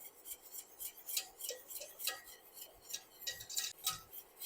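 Fruit curd being whisked in a pot, quick light metallic clicks and taps of the whisk against the pot in an uneven rhythm, close but faint, with no voices.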